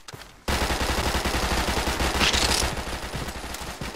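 Rapid automatic gunfire from a Roblox gun game bursts in suddenly and keeps rattling loud and close, a dense stream of shots with no pause.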